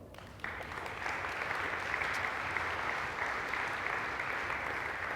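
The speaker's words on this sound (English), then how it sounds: "So please give yourself an applause." Audience applause at a startup community anniversary event in Barcelona, a dense steady wash of many hands clapping that swells in after a brief quieter start and holds loud and even throughout.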